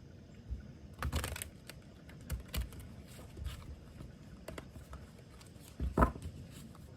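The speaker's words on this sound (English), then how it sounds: "Some shuffling, of course." Tarot cards are shuffled in short bursts of crisp riffling and soft slaps, with quiet pauses between, close and faint.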